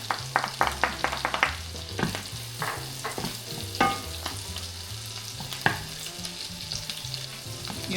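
Garlic sizzles and crackles in melted butter in a pan beside chicken, with a steady fry under repeated loud clacks of a utensil stirring and scraping, close up and with no talking.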